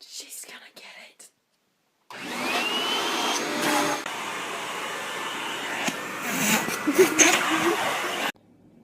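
A vacuum cleaner roars steadily for about six seconds after a brief stretch of whispery noise and silence, loud and close, with a rising whine at the start, during a cleaning prank.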